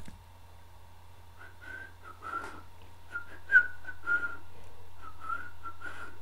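A person whistles a wandering, tuneless melody of short and held notes over a steady low background hum, fairly close and moderately loud, with no talking.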